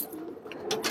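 A domestic pigeon kept at a home coos once, soft and brief, a faint low murmur heard alone.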